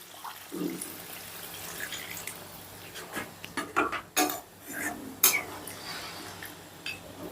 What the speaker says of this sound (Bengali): যে জলটা আমি রেডি করে রেখেছিলাম এলাচ দারচিনি দিয়ে, সেটা দিয়ে দিচ্ছি।